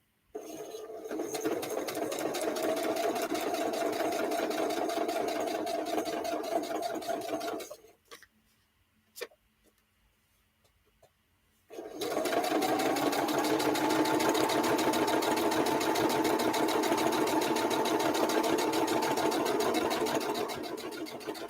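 A sewing machine stitches in two long, steady, close runs of rapid even whirring, separated by a few seconds of near silence with a single click.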